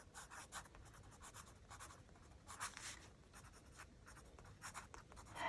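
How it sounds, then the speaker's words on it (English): A pen writing on paper for an Easter egg tag, with quiet, close scratchy strokes in short irregular bursts against faint background hiss and no talking. "Just going to write."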